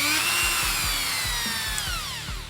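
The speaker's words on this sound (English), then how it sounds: "a rotary tool with an adjustable speed dial" A handheld rotary tool with an adjustable speed dial and a long extension spins with a high whirring whine that sweeps in pitch as the speed changes, over a regular low ticking pulse, close and steady throughout.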